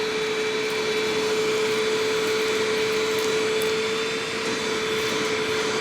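A Hoover WindTunnel self-propelled upright vacuum cleaner, found at the curbside, runs continuously up close with a loud, even motor whine and a steady airflow roar and no other sounds.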